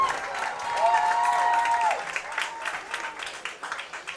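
A large crowd applauds at a high school varsity boys' soccer quarterfinal between Deering and Portland, a broad sustained clatter of clapping with a brief whistle-like tone early on, gradually thinning and fading out.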